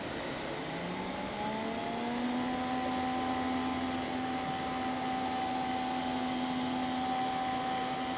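A motorised spear valve on a four-nozzle off-grid micro hydro turbine drives as it tightens, a steady whirring motor hum whose pitch rises briefly at the start and then holds level over constant rushing water.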